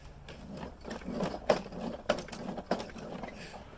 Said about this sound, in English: So I'm gonna shake this thing around a little bit.